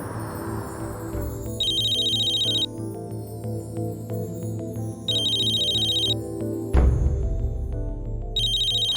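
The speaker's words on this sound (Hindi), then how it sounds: "मैं जिग्नेश को फोन करती हूँ।" A phone ringtone chimes in repeated bursts of a bright electronic tone, playing over steady background music.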